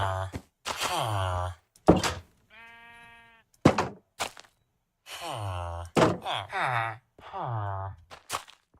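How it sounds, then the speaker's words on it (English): Minecraft 1.8 sheep bleat in a short harmonic burst in the middle, sitting between stretches of close talking voices. "I have sheep over here."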